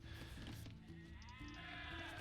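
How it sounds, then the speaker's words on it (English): A sheep bleats in a medieval real-time strategy game, a short wavering call rising over steady game background sounds and tones, fairly faint, with no talk over it. "Manages to keep both of his sheep."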